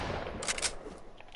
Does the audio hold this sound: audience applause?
no